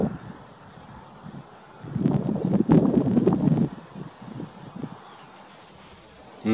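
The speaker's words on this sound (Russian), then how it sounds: "Сильный ветер" Strong wind buffets the microphone in gusts, swelling into a loud rushing roar midway before easing back to a steady blustery hiss, in Kharkiv.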